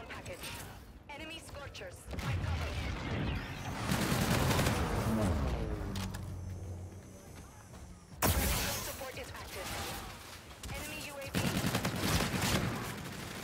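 Video game gunfire from Call of Duty: Infinite Warfare, with loud dense bursts of rapid shots and explosive cracks running through the whole stretch, layered with someone talking over the action.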